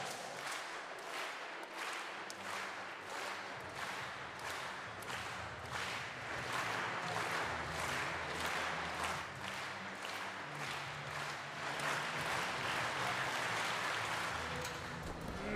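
Sustained audience applause fills an indoor athletics meeting hall, steady rhythmic clapping from a crowd at moderate distance, swelling slightly toward the end without any talk.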